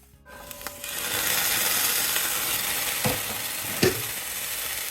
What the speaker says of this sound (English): I think these are ready, but I'm gonna let it simmer some more.